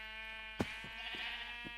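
Sheep bleats in Minecraft with the FTB modpack: a sharp close hit followed by several short, evenly spaced bleats over a steady game-music drone, with no talking.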